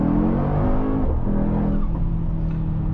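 Mercedes-AMG GT 63 S 4-Door Coupe V8, a 2023 model with 843 hp, pulling hard under acceleration: a loud, steady engine drone with a deep low rumble that holds for about three seconds, with no talk.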